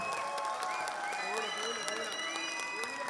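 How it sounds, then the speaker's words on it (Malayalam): Audience applause at a stage performance, a steady wash of clapping filling the room for about three seconds, with some cheering and voices mixed in. "കയ്യടി പോരാ, കയ്യടിയുടെ ഉഷാറ് പോരാ"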